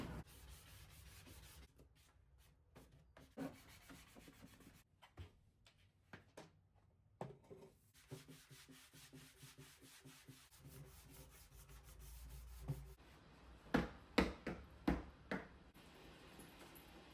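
A sanding sponge rubs over thrifted wooden furniture in uneven strokes with short pauses, then a run of louder, sharper scrubbing bursts near the end, all close by with no talking.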